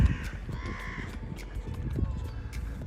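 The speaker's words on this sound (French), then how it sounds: "c'est calme, il n'y a pas un bruit, il n'y a que les oiseaux" Crows caw now and then at a quiet golf course near the green, several harsh calls spread across the moment over a soft low outdoor rumble, moderately distant and not loud.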